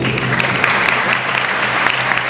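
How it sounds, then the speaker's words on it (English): Sustained audience applause at a high school commencement ceremony honouring graduating students, dense and steady clapping filling the hall from start to finish, loud and close with no talk over it. "give a warm round of applause to the graduates of Batch 2012"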